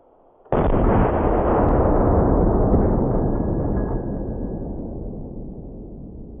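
A single tremendously loud T-REX rifle shot fired close by, an abrupt massive boom whose roaring blast and echo decay slowly over several seconds.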